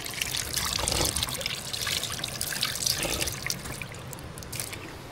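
Water running from a tap in a campsite restroom, a steady trickling splash that stays fairly close and even throughout, with no talking.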